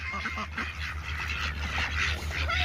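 Ducks at a park pond being fed corn give a chorus of close, overlapping quacks and honks, steady and busy throughout, with a low hum running beneath.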